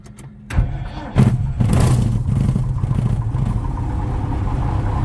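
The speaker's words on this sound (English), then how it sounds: "Doug's got the Dynon Skyview system all lit up and he's ready to start engine." A light aircraft's piston engine cranks with a few uneven clattering bursts, then catches and settles into a steady, rumbling idle close by.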